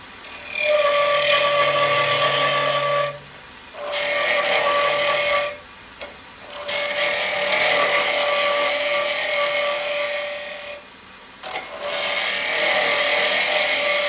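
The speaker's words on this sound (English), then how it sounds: "what I'm doing now is on the inside, all those little steps, I'm smoothing it out so it's slick" A woodturning tool smooths the stepped inside of a wooden bowl on a lathe, a close, steady rasping scrape in long passes broken by short pauses, with a faint low hum beneath.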